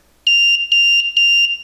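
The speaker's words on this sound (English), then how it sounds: "there's the beep sound from the piezo buzzer" A piezo buzzer on a Konnected alarm panel add-on board sounds three shrill, close beeps in quick succession, each with a short trailing pulse, alone in silence.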